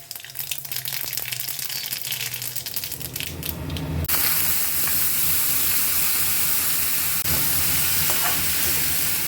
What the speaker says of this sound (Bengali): সর্ষের তেলে ভাজবো একটুখানি সর্ষে ফোড়ন দেব দিয়ে দিলাম সর্ষে ফোড়ন